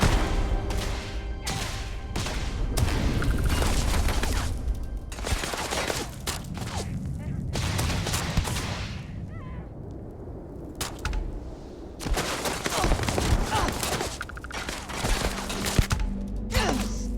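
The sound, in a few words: gunfire from a gun in the video game Starfield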